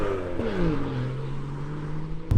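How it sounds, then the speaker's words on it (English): A BMW F87 M2 engine breathing through a Miltech catback exhaust, a steady low drone with a brief rising rev and falling pitch sweep early, then a sharp throttle blip near the end. "all of that sound coming from these bad boys, the Miltech catback exhaust system"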